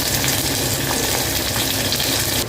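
Garlic fries in a hot pan with a steady, dense sizzle that holds close and even, broken only at the very end.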